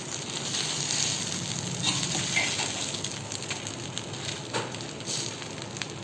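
A slice of bread fries in ghee on a hot tawa while being pressed down, giving a dense, steady crackling sizzle that stays close and even throughout.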